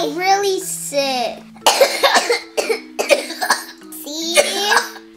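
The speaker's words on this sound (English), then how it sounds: "that cough does sound pretty bad" Several children cough repeatedly in a row, harsh and close, with a few throat-clearing sounds mixed in between the bursts.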